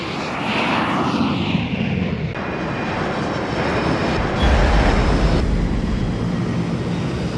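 Airplane landing at Chiayi, with a broad, steady roar of jet engine and rushing air filling the cabin, loud and continuous, a deeper rumble swelling near the end as the aircraft touches down.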